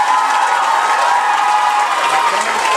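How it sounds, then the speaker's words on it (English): Steady, dense applause from a school dance showcase audience honoring a dance group, loud and continuous throughout with a faint crowd murmur beneath. "a big round of applause to St. Luke's for achieving that"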